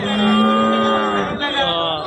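A loud, close Jersey cow moo, long and drawn out with a slight dip in pitch near the end, at a cattle market.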